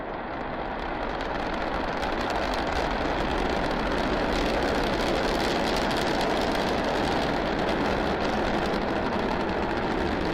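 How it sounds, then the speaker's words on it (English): SpaceX Starship SN9 with its three Raptor rocket engines thunders at liftoff, a steady, loud, broadband roar that holds without a break throughout. "all three Raptor engines at power"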